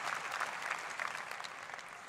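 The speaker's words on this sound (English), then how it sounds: "I think you should give yourself a round of applause right now" Graduates at a university commencement ceremony break into steady, dense applause, a crowd of many hands clapping continuously at moderate distance with no talk over it.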